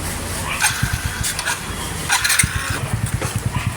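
A motorcycle engine sputters and revs nearby in short uneven bursts, choppy and rough, with a few sharp clatters and pops in between.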